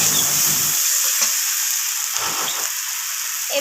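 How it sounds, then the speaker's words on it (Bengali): A spice paste with salt for a tomato rohu fish curry stir-fries in a pan with a loud, steady sizzling hiss, broken by a few soft stirring scrapes. "লবণটা দিয়ে আবারও আমি কষিয়ে নিচ্ছি মশলাটাকে"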